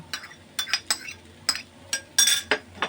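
A utensil scrapes and clinks against a pan while stirring a dabli boot (chickpea) samosa filling with mixed spice powder and chopped coriander, giving irregular sharp metallic scrapes and taps close by with no talking.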